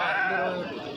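A sheep lets out a single drawn-out bleat, close and clear, at a weekly village livestock market selling sheep, lambs and cattle. Faint background murmur sits beneath it.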